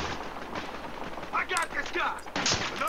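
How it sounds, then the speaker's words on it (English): Rapid gunfire from the video game Battlefield Hardline, played on a PS Vita, crackles in quick bursts over a noisy game background. "Oh, I'm getting shot at."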